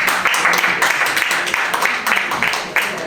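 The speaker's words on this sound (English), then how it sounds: "can we get a big round of applause for Rubina Aziz?" An audience applauding at a birthday, Christmas and police promotion gathering, dense clapping filling the room and continuing steadily throughout, with no speech on top.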